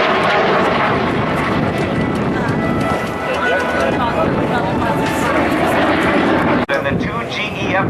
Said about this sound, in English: the two GE F404 turbofan engines on the Hornet